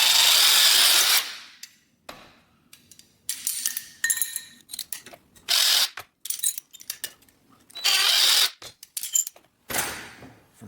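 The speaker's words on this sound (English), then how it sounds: "9/64 drill bit" A drill fitted with a 9/64 bit bores into copper for a handmade rose, running in several loud bursts of whirring separated by pauses filled with clinks and handling of small metal parts.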